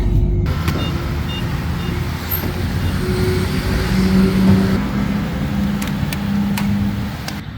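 Car driving on a road during a test drive after brake work, a steady engine and road rumble heard from inside, with no talking.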